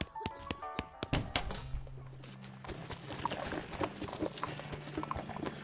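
Horse hooves clip-clop in the West of Loathing video game, a run of sharp, fairly close knocks in a steady walking rhythm over a low tonal game backdrop, with no one talking.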